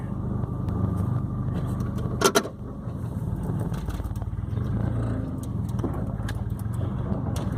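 A car drives along a road with a steady engine drone and road rumble. A brief clatter rises partway through.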